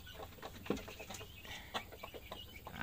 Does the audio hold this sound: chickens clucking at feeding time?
yes